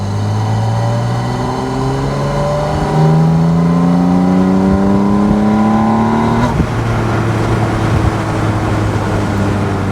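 A Porsche 718 Spyder RS sports car drives at speed, its engine note loud and steady, rising in pitch through a gear, dropping at a shift and climbing again, with constant wind buffeting throughout.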